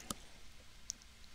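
A computer mouse clicks twice, faint and sharp, in a quiet room during FreeCAD work on a desktop computer.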